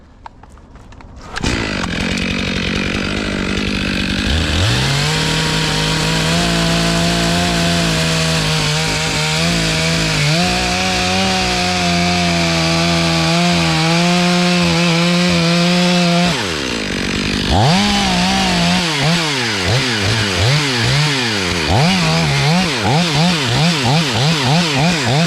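A chainsaw cuts the sides of a tree during a tongue and groove felling job, loud and close. The engine idles briefly, then roars steadily under load for about fifteen seconds before revving up and down as the cut continues.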